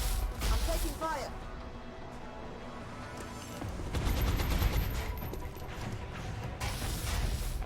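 Gunfire from the XCOM Long War strategy game, a dense run of shots and mechanical weapon clatter that swells midway and keeps going, mixed with game effects and talk over it.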